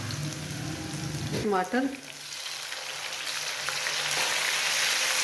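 Chopped onions dropped into hot oil in a home kitchen, starting a steady loud sizzle and frying hiss that carries on through the clip, with a brief stir sound near the start and a voice speaking over it.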